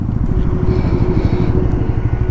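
A partner's motorcycle engine runs steadily up close, a loud, even throbbing rumble with a fast mechanical patter, alone with no talk.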